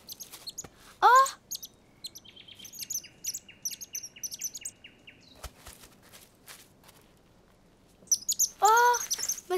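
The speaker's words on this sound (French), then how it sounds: "Mais c'est un bébé oiseau!" A cartoon baby bird gives quick high chirps and tweets in short bursts, with a longer chirping run near the start and another lively flurry near the end, light and close with quiet gaps between.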